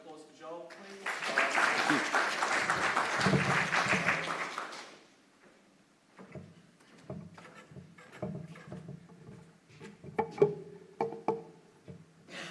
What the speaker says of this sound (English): So a round of applause for Joel, please.